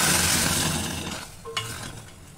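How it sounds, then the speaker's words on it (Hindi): Hot oil tempering with red chili powder and garam masala sizzles loudly as it hits chana dal with bottle gourd, the hiss fading over a second or two before a light clink. "इस दाल में तड़का लगा देंगे"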